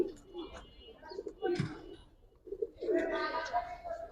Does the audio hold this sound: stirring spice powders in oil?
no